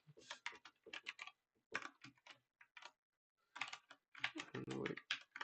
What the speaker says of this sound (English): I'm too fast for my keyboard